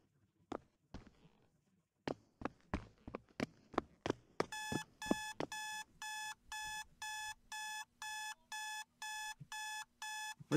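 A digital alarm clock in the video game Paint The Town Red beeps in rapid, evenly spaced bursts, loud and repeating, preceded by a run of sharp clicks and knocks.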